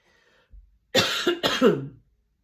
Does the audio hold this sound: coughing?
yes